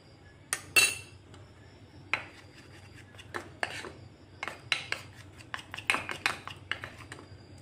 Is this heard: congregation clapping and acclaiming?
no